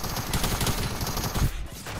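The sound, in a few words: gunfire in a video game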